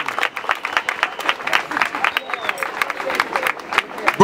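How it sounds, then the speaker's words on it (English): A crowd at an outdoor rally in Newark applauds in sparse, fairly close claps with uneven rhythm, and voices are faintly mixed in. "Let's give a strong round of applause to CASA."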